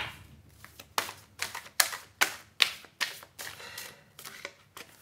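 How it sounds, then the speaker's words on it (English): Someone shuffles an oversized Rider-Waite tarot deck by hand: quiet, close papery slaps and riffles that repeat in a steady rhythm roughly twice a second. "Shuffle."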